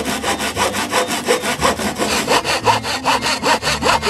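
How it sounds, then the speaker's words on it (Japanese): A hand saw cuts material for a homemade toilet paper holder built from dollar-store goods, a close, loud, rhythmic rasp of about fifteen quick back-and-forth strokes with no voices. "それではこれから切っていきたいと思います。"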